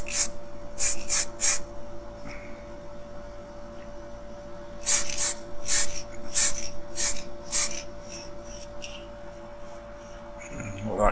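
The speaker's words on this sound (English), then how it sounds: "Very funny paint to spray this is." Spray paint applied to a Corgi 233 Heinkel bubble car die-cast model as a light dusting coat, heard as short hissing bursts in two clusters, close and fairly loud, with quiet room hum between them.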